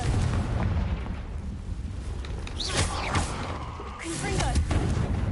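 Repeated Confringo blast spells burst in Hogwarts Legacy while fighting a giant spider, several sharp booming impacts over a dense, continuous game soundscape, loud and close.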